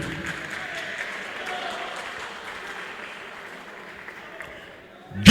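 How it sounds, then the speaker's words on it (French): An audience at a boxing fight night applauds the two boxers, a steady wash of clapping that holds at an even level, then a sudden loud burst right at the end. "est-ce qu'on peut encourager les deux boxeurs par des applaudissements"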